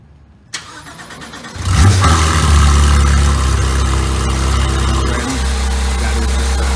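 Flat-six engine car starting with a click and then catching into a loud, deep rumble that holds a steady idle-to-rev drone, recorded close and without talk.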